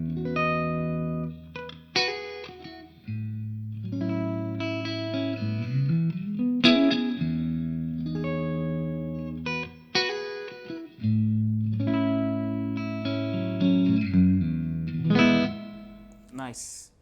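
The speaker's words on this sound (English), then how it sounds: "this is the equivalent of just being plugged into an amp with some reverb" Electric guitar played through a Donner Arena 2000 amp-modeler with reverb: sustained chords and single-note lines ring out with a roomy tail, clean-to-slightly-driven tone, steady and prominent for the whole stretch with pauses between phrases.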